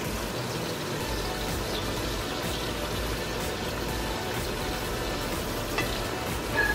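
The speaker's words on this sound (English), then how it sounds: "browning up in some bacon fat." Meat browning in bacon fat in a pan, giving a steady, moderately quiet crackling sizzle that runs continuously throughout, with no talking.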